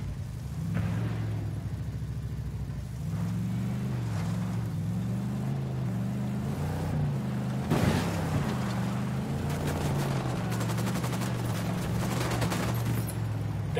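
Gunfire in Ghost Recon, a steady fusillade of rapid shots crackling over a droning vehicle engine hum, with a sharper burst near the middle and continuous firing to the end.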